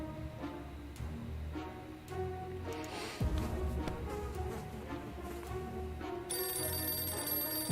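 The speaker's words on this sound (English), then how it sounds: "Oh, there's a phone ringing." A telephone rings faintly in bursts amid a murky ambient soundscape with low rumbles and a brief swell, in the video game 60 Seconds.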